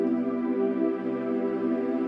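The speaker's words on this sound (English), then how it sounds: "I'm going to choose the new age synth," A soft new age synth pad from a DAW holds one steady, smooth, sustained chord throughout, even in loudness and with no talk.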